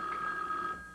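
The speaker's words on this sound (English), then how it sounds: "Gotta get the phone." A telephone rings once in a bright sustained tone that tapers off at the end, heard alone at moderate volume.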